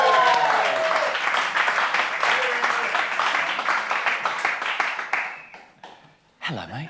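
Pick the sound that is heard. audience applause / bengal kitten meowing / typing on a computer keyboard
audience applause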